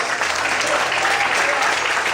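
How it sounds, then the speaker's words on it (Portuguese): A church congregation claps in dense, sustained applause that fills the room evenly at a loud level, with no voice standing out. "Você pode aplaudir o Senhor em voz, aleluia"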